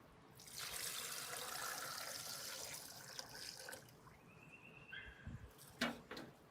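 One liter of water pours and splashes steadily into a blender holding chufa nuts for several seconds, then tapers into trickles, drips and a few handling knocks.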